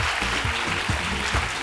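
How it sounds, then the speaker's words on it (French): Studio audience clapping on a midday TV show to welcome a guest, a loud continuous patter with no voices. "on va continuer d'applaudir pour recevoir cette fois-ci"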